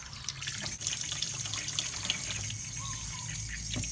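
Eggs being washed by hand under a running kitchen tap before salting, a steady rush of water spilling into a sink with small splashes and drips, close and continuous with no talking.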